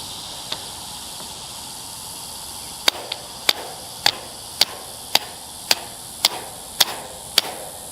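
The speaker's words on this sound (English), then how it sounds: "We're going to grab a hammer." A hammer pounds a stake into the ground with about ten sharp, evenly spaced metallic strikes over steady outdoor background hiss, heard at a moderate distance with no talking.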